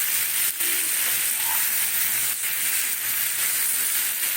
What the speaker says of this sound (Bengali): এইভাবে একটু নাড়া দিতে হবে, তাহলে সমস্ত সবজির সঙ্গে মিশে যাবে